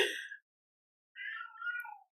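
A cat gives two short meows close by, separated by a brief pause of silence.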